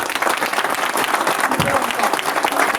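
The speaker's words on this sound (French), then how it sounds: "Veuillez l'applaudir, s'il vous plaît." Audience applause at a conference, a brief burst of steady clapping from a seated crowd, fairly dense and even with a faint voice mixed in.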